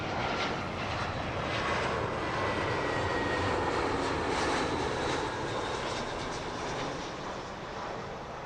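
An airliner landing at Heathrow on a gusty morning gives a loud, sustained roar close by that holds steady and eases slightly toward the end, with no voices.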